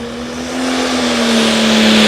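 A John Deere pulling tractor in an 8,500-pound light limited pro stock class at an outlaw pulling event in Wisner, Nebraska roars loudly and steadily down the track, its engine building slightly in intensity as it goes.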